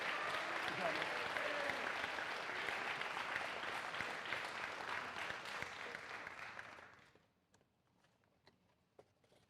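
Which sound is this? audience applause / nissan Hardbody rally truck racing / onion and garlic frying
audience applause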